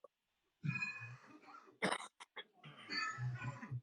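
Several close, harsh coughs in short bursts, with a pause between groups and a final longer run of rough coughing and throat sounds.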